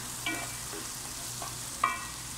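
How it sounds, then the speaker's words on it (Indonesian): Shallots, garlic and ginger fry in a pan for spicy fried spaghetti and are stirred, giving a steady quiet sizzle with a few soft utensil scrapes and one brighter clink against the pan. "Kita aduk terus."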